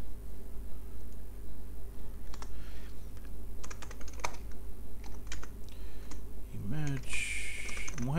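Keys clatter on a computer keyboard during a programming session, coming in irregular bursts of close, crisp clicks over a steady low hum, with a short warbling tone near the end.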